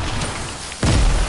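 A grenade blast in a first-person shooter video game, one sudden loud low boom that cuts in partway through and keeps rumbling to the end over dense game noise.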